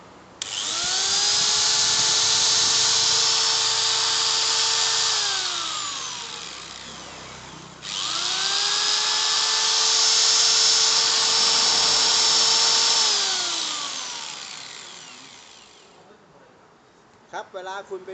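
An angle grinder run twice with no load, each time spinning up to a loud, high-pitched steady whine, holding, then coasting down, heard close; a short clatter follows at the end.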